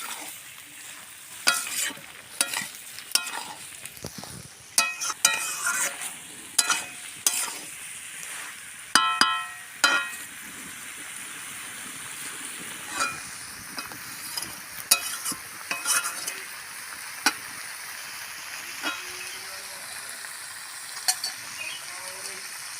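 Boiled jackfruit and potato stir-fried in hot oil in a pan, with a steady sizzle and repeated sharp scraping and clattering of a spatula against the metal, close and busy, no talk.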